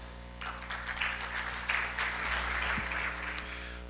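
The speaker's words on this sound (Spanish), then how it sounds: "para quien por supuesto pido un fuerte aplauso." An audience at a Coparmex Metropolitano labor-law committee event breaks into a burst of clapping, many hands together at moderate distance, steady for a few seconds over a low hum from the room's sound system.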